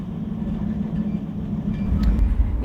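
The Rocky Mountaineer passenger train rolls along with a continuous low rumble of wheels and carriage, growing a little louder toward the end, with no talk.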